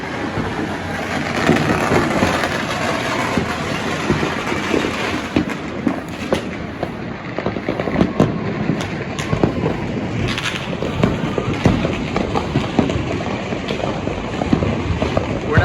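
Fireworks and firecrackers set off locally on New Year's, a dense, continuous crackling and popping throughout with wind rumble against the microphone and no talk.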